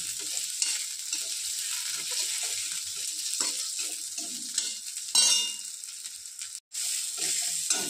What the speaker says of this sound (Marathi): इथे आपण हिरव्या मिरच्या भाजून घेत आहोत.